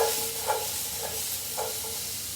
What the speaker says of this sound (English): We've got the carrots sauteing